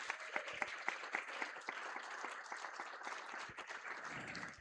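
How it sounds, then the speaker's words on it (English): An audience at a hacker conference, HOPE 26, applauds a speaker at the close of a talk with a dense, sustained round of clapping that holds steady and then tapers slightly at the end. "So please, another round of applause for Jamie Theophilus."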